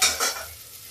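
Onion, garlic, ginger and spices sizzle in a pan for a French beans and peas dish, a short burst of stirring and hissing that fades quickly.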